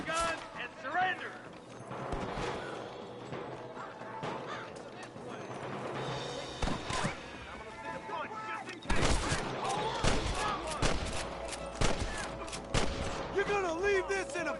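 Gunfire crackles in the Red Dead Redemption video game during a camp shootout, scattered loud shots and bursts mixed with shouting voices and game music.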